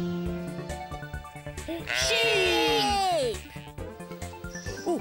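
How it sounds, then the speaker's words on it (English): Sheep bleating in a pen on a children's farm-animals show, one long wavering bleat in the middle over upbeat music and lighter bleats around it. "Oh, they're in a sheep pen."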